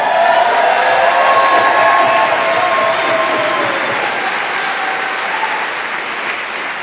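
A climate rally crowd applauds and cheers steadily throughout, loud and dense, a sustained wash of clapping with raised voices that eases slightly toward the end.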